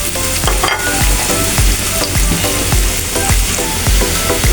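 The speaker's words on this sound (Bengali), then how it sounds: "এই যে শুকনো মরিচ ভেজে নিচ্ছি।" Dried red chillies fry loudly in hot oil in a pan, a steady dense sizzle with repeated scraping strokes of a spatula, close up and without talk.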